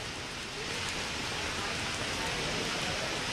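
Heavy rain pouring down in Jaipur, a dense, steady hiss of drops on surfaces, loud and continuous with no voices.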